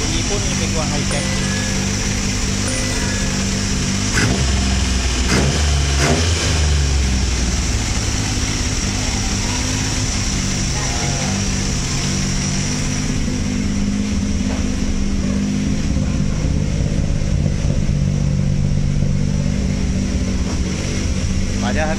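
An overhauled Perodua Kancil 850 engine with a new carburetor and 68 mm pistons runs and revs, a close, loud mechanical drone with rising and falling throttle bursts that continues under a man's speech.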